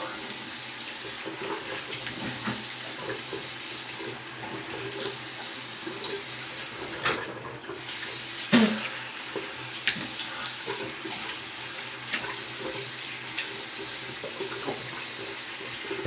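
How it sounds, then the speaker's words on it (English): Tap water runs steadily into a sink while a face is rinsed after a shave, a soft continuous splashing hiss with a few brief louder splashes and knocks partway through. "rinse my face off"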